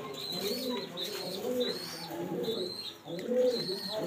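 A male Sarampuri crested pigeon in a home loft coos in repeated low, throaty rolling phrases, close and steady, with faint bird chirps and background noise around it.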